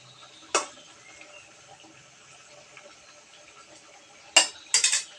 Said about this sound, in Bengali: মাছগুলো দিয়ে একটু সামান্য নাড়াচাড়া করে দেব